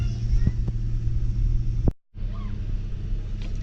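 A 4x4 pickup truck engine running in four-wheel low, a steady close low rumble that drops out briefly mid-way before resuming at the same level.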